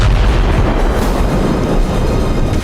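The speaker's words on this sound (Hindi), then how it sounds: "तभी अचानक धमाका हुआ और माइंस के ऊपर आते ही यूक्रेन का टैंक नष्ट हो गया" A Ukrainian tank strikes a mine near Rabotino, setting off a loud, heavy explosion that rolls into a sustained, deep rumble. It stays close and booming throughout, with no voices.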